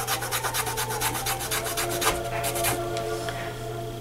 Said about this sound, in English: And I'm just gonna start rubbing the corners.